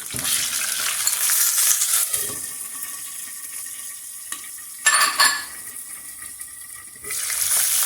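Onions with green chilies sizzle and fry steadily in a pan for an okra curry, loud and close, with brief clinks of stirring and a short burst of louder spattering partway through.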